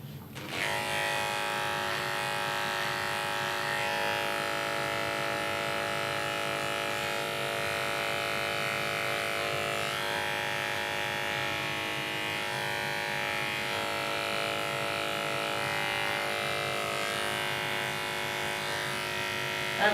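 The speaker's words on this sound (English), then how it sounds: "So instead of shaving the whole feet short, I'm kind of going short just up the sides." Electric clippers buzz steadily and close up while trimming the sides of a dog's feet during grooming, a continuous harmonic drone holding for the full stretch with no talk over it.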